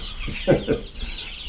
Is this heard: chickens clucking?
yes